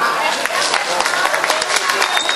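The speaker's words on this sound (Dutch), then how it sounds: "dan geeft u natuurlijk haar een applaus" Dense, steady applause from the audience at a Flemish and Dutch artists' gala in Ahoy Rotterdam, greeting singer Angela, with a sustained wash of clapping and crowd noise throughout.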